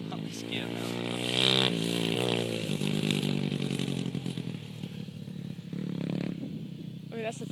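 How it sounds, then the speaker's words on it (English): Pit bike engine running while a child rides it, a buzzing, droning motor sound that rises and falls under adults talking nearby. "Look, Mark's driving the bike"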